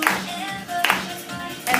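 Hand claps land on the offbeat, three sharp bursts spaced roughly evenly over a couple of seconds, near and fairly loud, with faint music or tones underneath.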